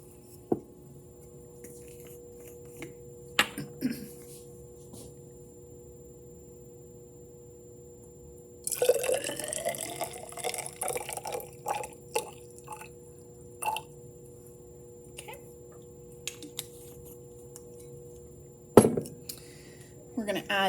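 Copper chloride solution is poured into a glass graduated cylinder in a quiet room: a brief, faint liquid splash mid-way, surrounded by scattered light clinks and taps of glassware.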